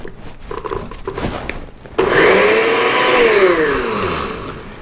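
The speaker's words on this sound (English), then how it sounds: "we'll blend." A kitchen blender starts abruptly and whirs loudly and steadily, its pitch shifting as it blends almond butter into an avocado chocolate pudding, following a few clunks as ingredients go in.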